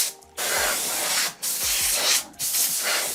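Compressed air blasting dirt out of a small part on a bike build: three loud, close hissing bursts, each about a second long, separated by short pauses.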